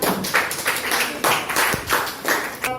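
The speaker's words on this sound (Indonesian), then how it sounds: "Tepuk tangan buat kelompok 3" A class applauds a student group after its presentation in a practice teaching session: a room of clapping hands rising and falling in short bursts, close and fairly loud, with no talking over it.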